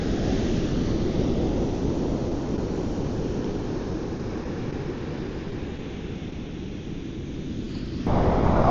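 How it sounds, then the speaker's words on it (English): Ocean waves crashing on a beach, a continuous broad rushing wash of surf with wind buffeting the microphone, steady and close, swelling slightly louder at the end. "Nothing better than the sound of crashing waves."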